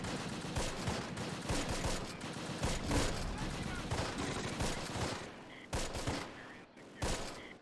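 Intense firefight from Close Combat: The Longest Day, with dense bursts of rifle and machine-gun fire crackling almost continuously, rising to heavy volleys and easing briefly before more shots near the end.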